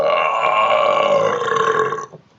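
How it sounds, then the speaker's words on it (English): One long, loud, close burp rumbles steadily for about two seconds before cutting off abruptly, alone without any talking. "I have to burp again"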